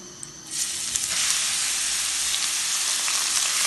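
Onions frying in a pan for a prawn masala, cooked until just translucent: a quiet start, then a steady broadband sizzle from about half a second on that holds evenly to the end, with no voices.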